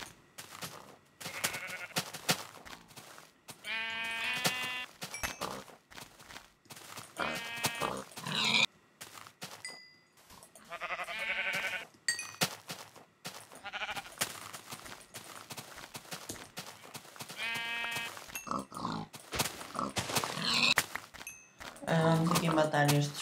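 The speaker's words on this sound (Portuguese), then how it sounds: "Ovelhas!" Sheep and pigs in the Minecraft video game make repeated short bleats and grunts spread across the stretch, mixed with game effects and frequent talk from a player speaking Portuguese.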